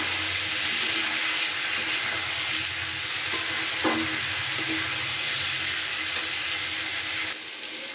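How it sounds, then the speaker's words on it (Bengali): Vegetables and cumin powder sautéing in a pan for a khoira fish dish, a dense, loud, close sizzle with occasional scrapes of stirring, dropping slightly near the end. "দিয়ে খুব ভালো করে কিন্তু এটাকে কষিয়ে নেব"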